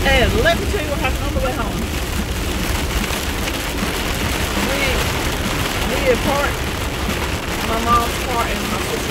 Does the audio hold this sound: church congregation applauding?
no